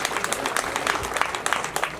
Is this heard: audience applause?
yes